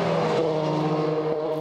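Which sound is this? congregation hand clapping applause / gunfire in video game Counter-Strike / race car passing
race car passing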